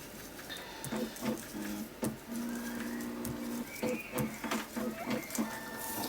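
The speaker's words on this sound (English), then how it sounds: "Hello, Mr. Printer." A home printer whirs and clicks in short mechanical bursts, with a rhythmic ticking and a sustained motor drone in the middle, quiet and close in a room.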